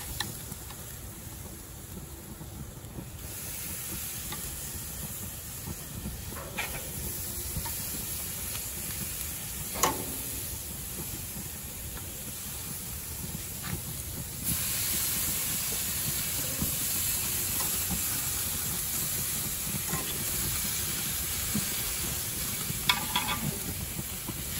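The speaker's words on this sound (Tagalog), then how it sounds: "we are going to grill now the chicken" Chicken inasal, Bacolod style, sizzling on a grill: a steady broadband hiss and crackle runs throughout, growing slightly louder midway, with occasional sharper pops and clinks, and no talking.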